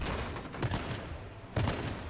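Two sharp distant gunshots crack about a second apart in the video game H1Z1, each with a short echoing tail over quiet background noise.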